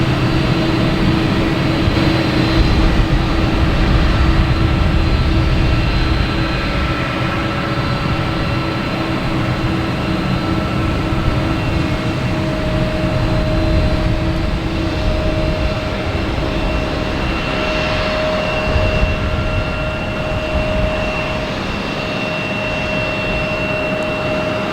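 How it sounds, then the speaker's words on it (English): A Southwest airliner takes off from runway 4 right at Boston Logan Airport, a loud, sustained jet engine roar with steady tonal whine that holds strongly throughout, heard alone without talk. "we have a Southwest lined up on 4 right"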